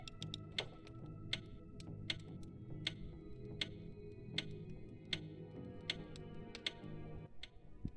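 A clock in the puzzle video game We Were Here Together ticks steadily and evenly, clear sharp ticks over a low humming backdrop with no talk.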